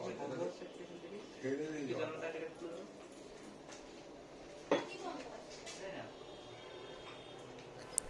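Bowls and dishes clink and knock as they are gathered together for a Bengali pre-wedding feast, with a few scattered taps and one sharp clatter beneath people talking nearby.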